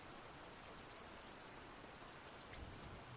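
Steady rain falls outside, a soft continuous patter and hiss with no voices, heard quietly throughout.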